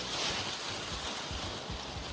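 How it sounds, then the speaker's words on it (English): Wind blows outdoors in a steady broadband rush with low gusty buffeting against the microphone, close and continuous for a couple of seconds, no voices. "it's very windy out here"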